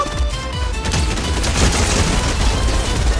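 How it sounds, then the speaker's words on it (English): Rapid shotgun blasts in Fortnite, including an auto shotgun, fire in a quick, loud, ragged burst of booming reports layered over game noise and chaotic close-range combat. "Oh my god, shotgun to the face!"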